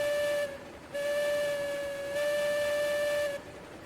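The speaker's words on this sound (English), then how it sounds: "Let me pull the whistle." A steam locomotive whistle in the Railroads Online train game blows in three long, steady, loud blasts separated by short gaps, with a faint hiss underneath and no talking.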